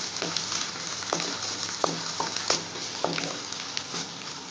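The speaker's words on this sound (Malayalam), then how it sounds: "എന്നിട്ട് ഇങ്ങനെ ഇളക്കി കൊടുക്കണം." Food fries and sizzles in a pan as turmeric powder is stirred in, with soft scraping strokes of a spoon at irregular intervals over a steady crackle; no one speaks.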